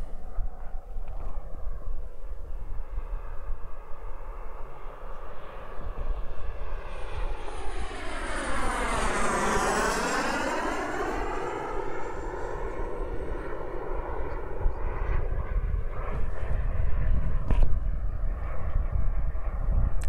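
A radio-controlled model jet on its first flight, an Aviation Design Diamond, roars steadily overhead and makes a clear Doppler swoop as it passes close by mid-flight, with wind buffeting the microphone throughout.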